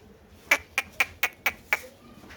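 A duck quacks six times in a quick, evenly spaced series, each call sharp and fairly close.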